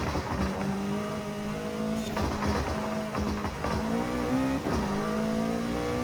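A front-wheel-drive hot hatch races in Forza Horizon 5, its engine revving and climbing through gears with shifts and dips, loud and close, with tires squealing briefly.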